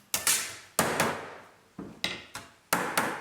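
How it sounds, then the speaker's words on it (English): A soft hammer flattens a metal body panel for the lower front outer sill of an old rusty car, with sharp close strikes, often in quick pairs, each followed by a short ringing decay. "I like to use soft hammers for that so I don't damage the metal too much"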